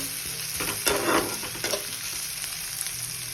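Spices frying in oil in a pan after frying paneer for a butter matar paneer, a close steady sizzle with a few louder bursts as they are stirred.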